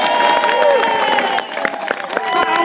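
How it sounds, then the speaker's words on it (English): An audience at a pantomime launch event applauding a performer, mixed clapping and crowd noise with some cheering and voices, a dip midway before the clapping picks up again in scattered bursts. "give a big round of applause for Matt Slack"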